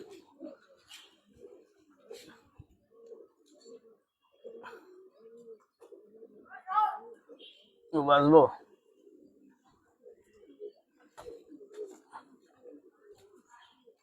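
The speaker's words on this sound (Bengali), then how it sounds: "সিলভার কবুতর।" Silver pigeons cooing in a loft, a short burst of rolling coos standing out near the middle against quiet background chatter, with a person speaking briefly.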